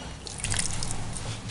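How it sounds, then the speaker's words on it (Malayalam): A small amount of water poured into a cooking paste of ground masala with curry leaves, a short, soft trickling and splashing pour heard alone. "കുറച്ച് വെള്ളം മാത്രമേ ഒഴിക്കാവുള്ളൂ."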